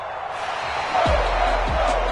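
Home crowd in a video game basketball arena applauding as a steady wash of broadband noise throughout, with two low thuds partway through.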